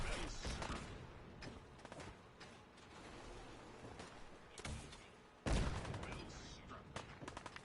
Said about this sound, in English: Artillery on your bitch asses.